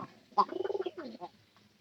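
A pigeon gives a soft, rolling coo, one short throaty phrase of rapid pulses from close by, heard alone without any talking.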